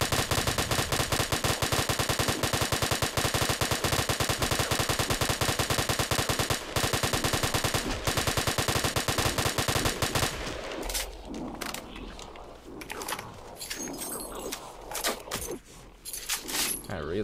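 Sustained, dense automatic fire from the SAW machine gun in Halo Custom Edition, loud and continuous for about ten seconds, then giving way to scattered clattering and softer game sounds with a voice talking.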